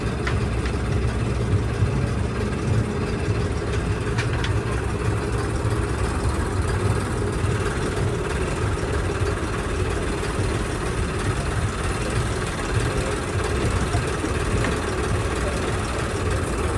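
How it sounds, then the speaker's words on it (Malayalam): A passenger ferry's engine idles before departure on the Alappuzha to Kottayam backwaters route, a steady low rumble that continues unbroken and fairly loud throughout. "ഇവിടെ ബോട്ട് ഇവിടെ ഓണായി."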